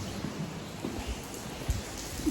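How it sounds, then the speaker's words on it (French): Steady rain falls outdoors near the sea, a soft broadband patter with scattered faint drop ticks and a few low thumps, fairly quiet and without voices. "En plus, il pleut dehors."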